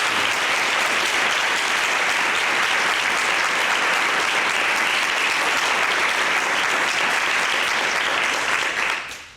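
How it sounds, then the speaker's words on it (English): A crowd at a mayor's library budget event applauds city staff with loud, sustained clapping from many people, a dense, continuous roar of hands that holds for several seconds before fading at the end. "Would you please, please, please join me in just giving a huge round of applause for all the city staff"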